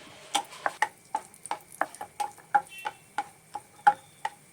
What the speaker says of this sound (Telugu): జీడిపప్పు ఉంది కదా అది కూడా వేయించుకోవాలి దోరగా